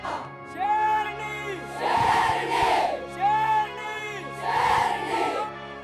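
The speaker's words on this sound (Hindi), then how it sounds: "भीड़ चिल्ला उठी" A crowd at a dangal wrestling match in an Indian village roars and shouts in loud, swelling waves, with two big surges and a dense layer of raised voices throughout.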